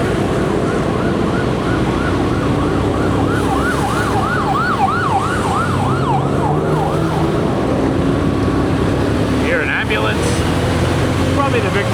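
An ambulance siren wails in steady rising and falling sweeps through heavy Bangkok rush hour traffic, set against loud, constant engine and road roar from nearby vehicles.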